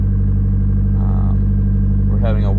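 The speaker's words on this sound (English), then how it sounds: "So now we can start the car up after we got everything set up." A Nissan S13 fitted with a Link ECU idles steadily right after starting, a loud, constant low rumble with a brief rev-like swell near the end.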